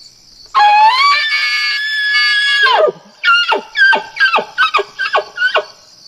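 An elk gives a loud, sustained high-pitched bugle rising into a long squealing whistle, followed by a string of short descending chirps and grunts, all close and unaccompanied.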